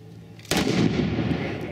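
A single sharp gunshot at a fast draw shooting competition, an abrupt loud crack followed by a long echoing outdoor tail.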